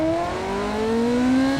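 A lightweight race car in the Automation game laps a test track, its engine a steady, loud drone with the pitch climbing slowly as it accelerates, and no talk over it.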